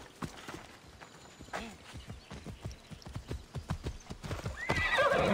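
Steady clip-clop of horse hooves walking, then a loud neigh near the end, from the video game Assassin's Creed Odyssey, all close and clear with no talking.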